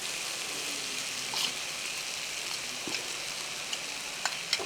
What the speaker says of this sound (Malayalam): ആ മുളകും കൂടി ഇട്ട് ഒന്ന് ഇളക്കി.